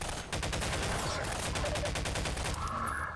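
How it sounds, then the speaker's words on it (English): Shots from a gun in a game, heard as a steady rapid volley of repeated reports lasting the whole moment, loud and close with no talk. "Damn good gun right here."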